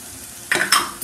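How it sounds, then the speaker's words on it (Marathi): Turmeric and spices stirred in a pan on low heat, two quick scraping strokes of a spoon over a soft sizzle, close and loud with no voices. "मी हळद सगळी मिक्स करून घेते"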